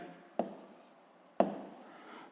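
Pen writing an answer during a physics lesson, two short scratchy strokes each starting with a tap and trailing off, close and quiet, with no talking.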